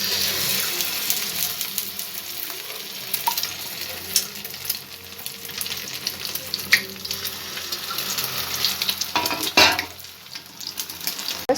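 Maida batter snack deep-frying in hot oil, with a steady close crackle and sizzle throughout and occasional bubbling bursts and utensil clinks as pieces are turned, with no talking.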